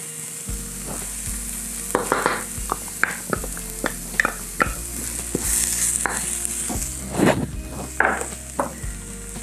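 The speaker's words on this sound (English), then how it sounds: "next we'll add our ginger garlic paste." Ginger garlic paste sizzles steadily in a hot pan for masoor dal, with repeated scraping and stirring strokes of a utensil against the pan throughout.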